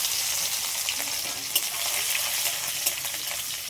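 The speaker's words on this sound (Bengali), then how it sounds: "কড়াইতে তেল দিয়ে দিয়েছি, তেলের উপরে দিয়ে দিচ্ছি পাঁচফোড়ন, 2 থেকে 3টে শুকনো লঙ্কা কেটে নিয়েছি, এটা দিয়ে দিলাম।" Panch phoron, dried chilies and crushed garlic fry in hot oil in a kadai, giving a steady close sizzle with small pops and crackles and no talk over it.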